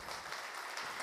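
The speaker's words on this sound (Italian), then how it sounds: "L'applauso delle donne." Applause from women in a television studio audience during a live comedy show, heard as brief, faint and steady clapping.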